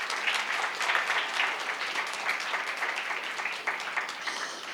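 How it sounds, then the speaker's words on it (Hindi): Steady, moderately loud applause from an audience at a memorial lecture, many hands clapping evenly and continuously for several seconds with no voices. "उनके लिए ज़ोरदार तालियां बजाइए।"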